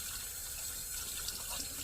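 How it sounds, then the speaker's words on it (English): Water pours from a brass instrument into a bathtub drain, a steady splashing gush that runs continuously for the whole short stretch with no talking. "I'm going to just pour that out into the drain."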